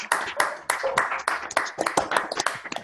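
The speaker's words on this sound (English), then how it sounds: "give you a round of applause" An audience claps in a round of applause after an online mathematics talk, steady dense clapping close to the microphone throughout.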